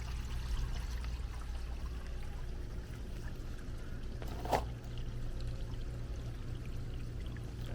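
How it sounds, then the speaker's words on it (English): Gray water drains from a camper's holding tank in a quiet, steady trickling pour, faint and continuous, with a brief louder splash midway and no speech. "And there comes cleaner gray water."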